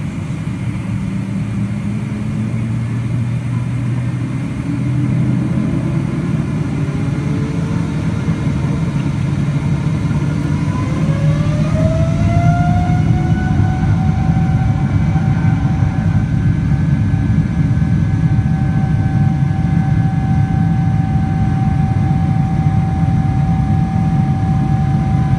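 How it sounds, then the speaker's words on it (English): Jet engines of an airliner at full takeoff thrust roar steadily down the runway, and a whine rises in pitch partway through and then holds, loud and continuous with no talking. "As the plane moves down the runway"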